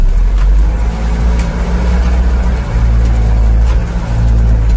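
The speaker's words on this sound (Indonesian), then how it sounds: "Nyobak truk iki." A truck engine rumbles steadily while driving, a loud deep drone with a continuous low throb from inside the cab and no break in the sound.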